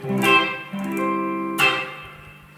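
A few clean, unprocessed electric guitar notes, played straight into the amp, ring out with sharp picked attacks and natural sustain, close and fairly loud.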